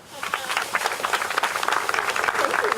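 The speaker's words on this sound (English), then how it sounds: "So please give a great big round of applause for my partner, Susan Grove." A crowd at a tree planting event for a community greening program claps in a quick, crackling round of applause that starts almost at once and holds steady at moderate volume.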